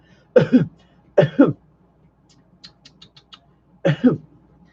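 Three short, harsh coughs spaced apart, each a double burst, with faint clicking sounds in between.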